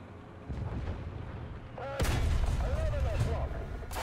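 Tank cannon and gunfire in War Thunder, heavy booms starting at about half a second and growing louder and denser after two seconds, rolling on under game noise and faint voice.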